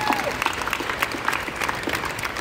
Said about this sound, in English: Norman, yes, you can clap for that